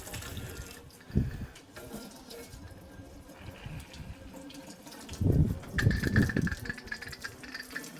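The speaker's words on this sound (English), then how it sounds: "I'm just going to get the hose out and then we'll give it a wash down." A garden hose washing out a cichlid fish tank set down on grass outdoors, with running water that stays steady, then heavier splashing and gushing near the end. Nobody talks.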